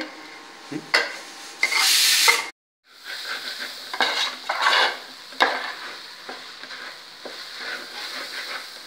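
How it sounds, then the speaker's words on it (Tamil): Dry scraping and stirring of rice being roasted with spices in a pot for plain kuska, with a soft sizzle, irregular strokes and a brief pause early on, no talking. "அரிசியெல்லாம் நல்லா வறுபட்டுச்சு மசாலா சேர்ந்துச்சு"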